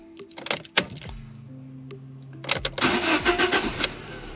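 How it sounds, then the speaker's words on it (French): A Fiat Grande Punto 1.4 T-jet engine is cranked and fires up, preceded by clicks and a faint electrical whine, then settles into a close, loud idle. "il faudrait démarrer le véhicule 3 fois"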